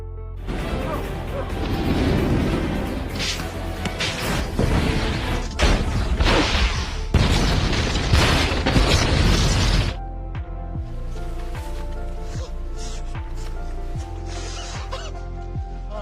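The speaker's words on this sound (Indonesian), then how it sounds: "Akhirnya timbul keributan sehingga membuat meledak kapal tua Charlotte." Loud, dense blast-and-crash sequence from the film National Treasure as the old ship Charlotte explodes, with booming bursts and debris rumble for about ten seconds, then a quieter stretch of lingering music-like tones.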